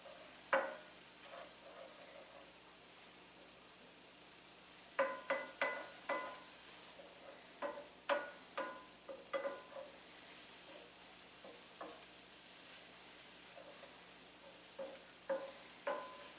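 Mushrooms being stirred in butter and gravy in a pan: a quiet background sizzle with a series of distinct scraping and clinking stirring strokes, some in quick clusters, close by.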